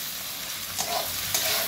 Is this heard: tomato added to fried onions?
yes